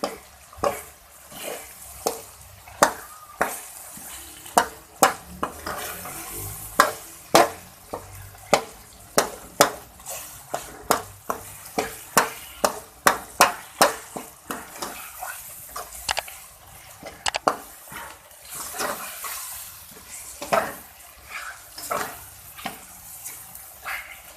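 Brinjal stir-fried in a pan for baingan ka bharta, with a soft sizzle beneath a steady series of sharp spatula scrapes and knocks against the pan, close and regular, with no talking.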